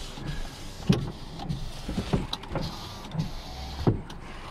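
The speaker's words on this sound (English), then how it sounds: "All your windows are working." Electric power windows on a 2008 Subaru Impreza 1.5 whir as they move, with a few soft thumps as the glass stops, heard close up inside the car.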